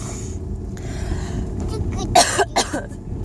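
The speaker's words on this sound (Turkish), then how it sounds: "Çok öksürüyorum." A few rough coughs from a sick woman burst out over a low car engine rumble, with some talk in the background before them.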